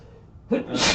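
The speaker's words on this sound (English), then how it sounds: "had to sneeze" A single sharp sneeze up close, preceded by a brief quiet intake of breath.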